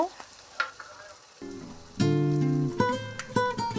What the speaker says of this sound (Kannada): ಇದನ್ನೀಗ ಸಣ್ಣ ಉರಿಯಲ್ಲಿ ಹುರ್ಕೋಬೇಕು